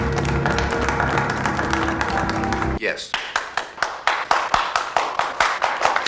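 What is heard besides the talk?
henchmen applauding in the movie G20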